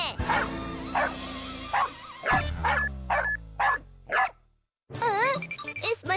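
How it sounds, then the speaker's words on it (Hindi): A cartoon voice converter machine turns speech into dog sounds: a run of yips, barks and whimpery whines close up, then a short silence and a voice near the end. "इस मशीन में से कुत्ते की आवाज कैसे निकल रही है?"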